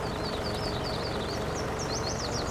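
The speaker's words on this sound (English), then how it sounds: "a nice size tractor for mowing the lawns" Steady engine drone of a mid-size tractor mowing lawns in Farming Simulator 19, continuous and close with no breaks, while chirping birds flutter high above it.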